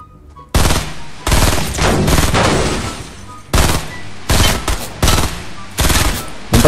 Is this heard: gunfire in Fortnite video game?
yes